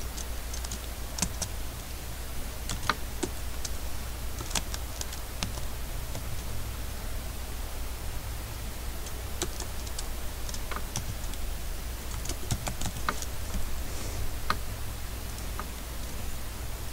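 Steady computer keyboard typing runs throughout, with clicks in uneven bursts and pauses over a constant low electrical hum.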